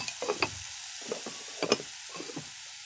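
Fish sauce is added to a hot pan of stir-fried fish, bringing a few short bursts of sizzling and stirring scrapes over a steady background hiss. The sound is close and moderately quiet, with no voices.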